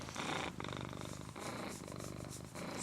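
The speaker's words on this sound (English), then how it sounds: "So listen to the purring." A kitten purrs right up close, a loud, continuous rumbling purr with a steady in-and-out rhythm of breaths.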